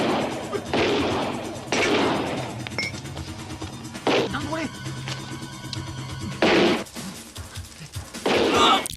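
Gunfight in a Hong Kong action film sequel: bursts of gunfire and crashing impacts come in loud clusters, with a low rumble beneath and voices mixed in between the volleys.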